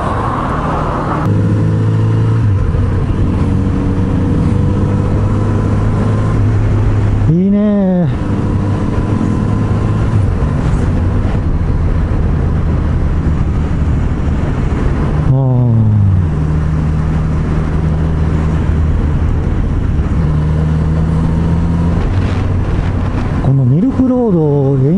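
A Kawasaki Z900RS motorcycle cruising on a touring ride, its engine droning steadily with shifting pitch sweeps as it accelerates and changes gear, close and loud, with wind rush and faint talk in the background.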